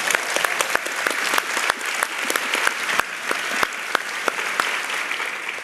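A Melbourne audience breaks into sustained applause welcoming a speaker on stage, a dense steady clatter of many hands clapping with no voices standing out.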